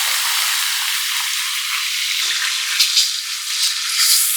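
Small onions sizzle in hot oil with cardamom and other whole spices for an egg kulambu, a bright, steady frying hiss close by and fairly loud with no talking.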